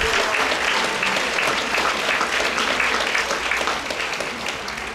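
An audience at a high school awards ceremony applauds honor roll students with a loud, sustained round of clapping from a full room that tapers slightly at the end.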